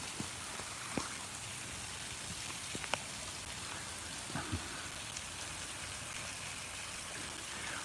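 Heavy rain pours steadily outside as a dense, even hiss, with a few brief drips and taps standing out now and then.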